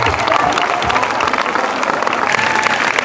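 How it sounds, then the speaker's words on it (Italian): Steady applause from a concert audience, dense clapping filling the whole stretch with faint crowd noise and a few cheers underneath, loud and close throughout. "Ci stanno i ragazzi della sicurezza, ai quali io farei un grande applauso."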